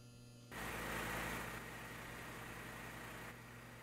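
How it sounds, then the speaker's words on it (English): A Robin DR401 aircraft engine in a flight simulator starts up and settles into a steady idling drone with a constant low hum and broadband whir, no voices. "Okay, we got some engine noise."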